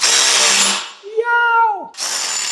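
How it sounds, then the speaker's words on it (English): A battery-powered ratchet drives bolts while fitting a canopy on a Ventrac 4520N, giving loud, close motor whirs in short bursts with a rising-then-falling whine between them. "We got battery powered ratchets now."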